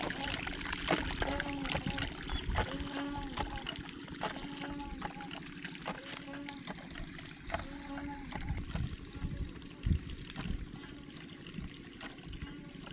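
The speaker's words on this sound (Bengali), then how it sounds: "দেখছেন পানি কিভাবে আসে।" Water gushes and splashes in a steady rhythmic flow from a foot-operated treadle tubewell pump irrigating a field through a drain in rural Bangladesh, with repeated pumping strokes and a voice speaking in the background.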